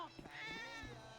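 A cat in the video game GTA V meows in a drawn-out, wavering cry over background game music, close and fairly loud.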